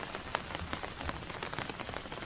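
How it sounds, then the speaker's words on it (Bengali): Heavy rain pounding a tin roof, a dense, continuous patter of large drops striking metal, close and steady without any voices. "বৃষ্টির বড় বড় ফোঁটা টিনের ওপর টপ টপ করে ঝরছে"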